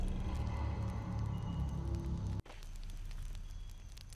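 A campfire crackles steadily in Shadow of the Tomb Raider, a continuous bed of fire noise with faint pops, briefly cut by a sharp break midway before resuming at a slightly lower level; no speech.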